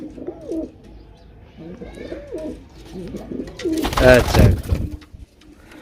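Pigeons kept in pairs coo repeatedly at close range in a rolling, wavering rhythm, with a louder burst of flutter partway through, while someone talks over them.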